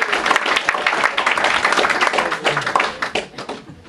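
A live magic show audience at the Magic Castle gives loud, dense applause that rolls on strongly, then thins slightly toward the end.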